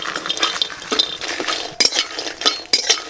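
Cashews and large Kashmiri dried chillies frying in a wok, with a spatula or spoon scraping and clinking against the metal in quick irregular strokes over a soft oily crackle.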